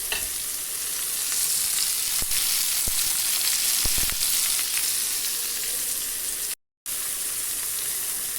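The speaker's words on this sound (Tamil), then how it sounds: "5-6 பூண்டு பல் சேர்த்து வதக்கிக்குவோம்" Garlic cloves and tomato sauté in a hot pan with a steady, close sizzle throughout, a few faint stirring clicks, and a brief dropout of sound near the end.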